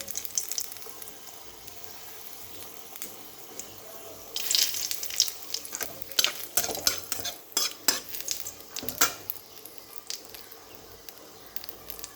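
Whole spices drop into hot oil left over from frying fish chops, giving a soft sizzle and brisk stirring clatter of a utensil in the pan, with a louder burst of scraping and sizzling midway.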